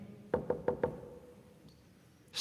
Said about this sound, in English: Just to be sure, I knocked again.